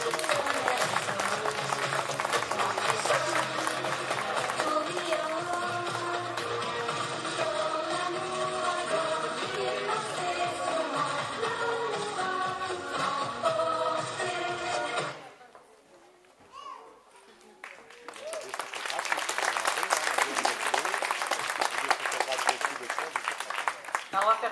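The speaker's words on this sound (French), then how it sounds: "Merci de faire un tonnerre d'applaudissements pour Stéphanie de Monaco" Loud, dense applause and cheering from a crowd at an anime-convention dance contest fills the first fifteen seconds, drops briefly to near silence, then swells back up again.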